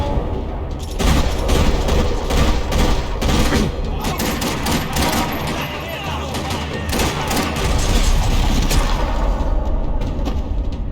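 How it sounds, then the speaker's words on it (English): Gunfire rattles through a parking lot in the video game Max Payne 3, a dense continuous barrage of shots and booms that stays loud over the whole stretch, with some game voices mixed in. "Another parking lot rattling with gunfire."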